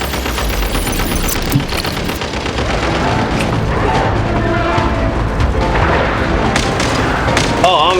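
Rapid gunfire and booming blasts during a Genshin Impact battle, a dense, loud, continuous barrage of shots and impacts layered with game music and effects throughout.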